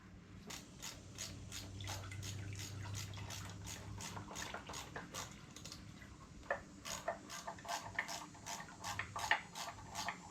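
Drain bolt being turned out of a 1979 Honda GL1000 motorcycle during an oil change: a run of sharp ratcheting clicks, close and fairly quiet, with faint trickling and metallic handling noises.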